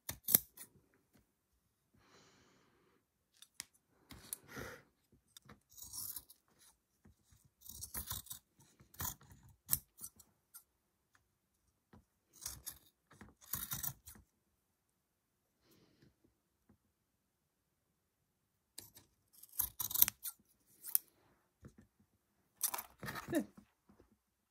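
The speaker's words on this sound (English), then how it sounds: "Just going to trim it off like that, right next to the wood." Scissors trimming fabric drapes close to the wood of a four-poster doll house bed, heard as bursts of crisp close snips separated by quiet pauses, with no talking.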